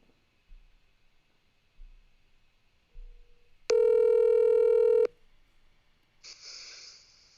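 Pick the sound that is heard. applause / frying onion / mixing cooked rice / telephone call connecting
telephone call connecting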